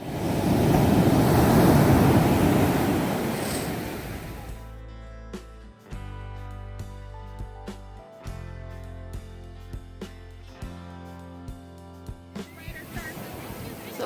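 Ocean waves break on Malibu beach at sunset in March, a loud roaring wash for the first few seconds before fading under other sounds, with a faint surf rush returning at the very end.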